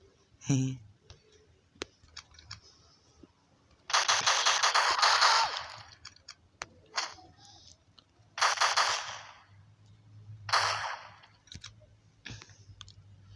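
Gunfire in a zombie shooting video game, with several separate loud bursts of shots coming every couple of seconds and sharp clicks in between, over a quiet background with a voice at times.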